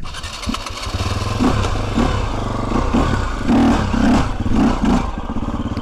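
A KTM EXC-F 250cc dirt bike engine runs steadily close by, a loud continuous single-cylinder rumble with a few small rhythmic throttle blips and no talking over it.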